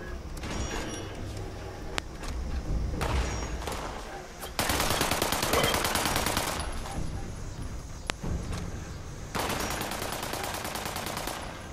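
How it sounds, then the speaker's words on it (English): Video game gunfire in two long bursts of rapid automatic shooting, loud and dense, separated by stretches of quieter scattered shots and background game noise. "They're shooting everything."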